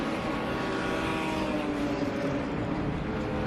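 A BMW M4 race car screaming past on a circuit during a BMW M Performance Parts race series event, a loud sustained engine roar that fills the whole clip.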